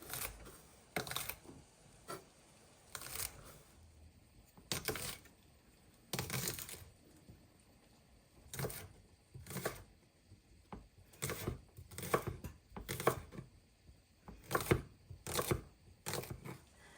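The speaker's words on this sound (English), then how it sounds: "we're going to quickly chop our asparagus stems into little pieces" A knife chops asparagus stems into small rounds on a cutting board. The cuts come as sharp, irregular clusters of knocks across the whole span, close and fairly quiet, with no talking.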